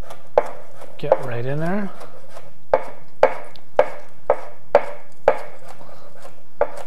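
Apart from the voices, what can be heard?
chopping green onion with a knife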